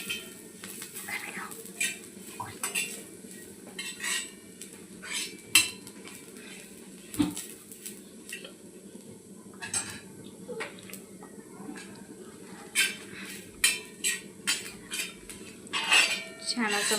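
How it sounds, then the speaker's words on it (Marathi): Grated coconut and poppy seeds roasting with masala in a pan, heard as a metal spatula clinking and scraping against the pan in irregular bursts, with soft background noise and no clear sizzle. "छान असा मसाला आपल्याला खरपूस असा भाजून घ्यायचा आहे."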